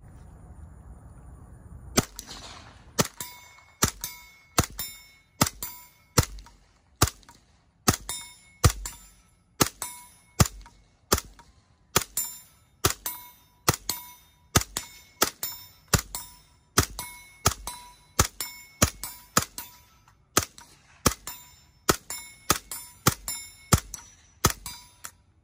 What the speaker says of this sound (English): First, we're going to take a look at the MP5 with a suppressor.